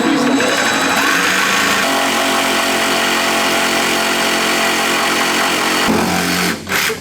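A power saw whines loudly and steadily as it plunges into panel stock for camper van cabinets, its pitch shifting slightly mid-cut before the motor winds down near the end.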